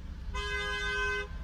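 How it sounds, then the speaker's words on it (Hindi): A car horn toots once in heavy Manali traffic, a single steady honk of about a second, fairly close, over low traffic rumble. "देखो इतने हॉर्न बजे हैं, 3-3 लाइनें चली है, गाड़ियां फंस के चल रही है एक दूसरे से"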